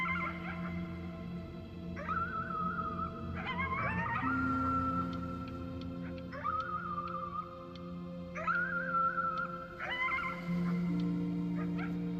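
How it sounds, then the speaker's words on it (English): A dog howls at the moon in the video game Before Your Eyes, with several long wavering howls rising and falling in a repeating pattern, close and loud over a low steady tone. "You howled at the moon at the top of your lungs."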